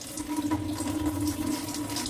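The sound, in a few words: pouring water off soaked batter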